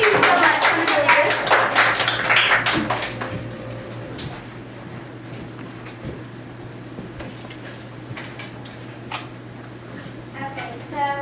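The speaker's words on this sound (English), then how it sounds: "a round of applause for Andrew and Jagruthi" Clapping in a 4th grade classroom, a short burst of many hands at the start that fades within a few seconds and leaves a quiet room with a steady low hum and scattered small noises.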